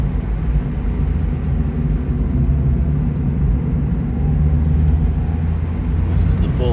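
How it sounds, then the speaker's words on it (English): A 2020 Mazda MX-5 Miata club model on the road gives a steady low engine drone and tyre rumble, heard from inside and continuous throughout. "Driving a 2020 Mazda MX5."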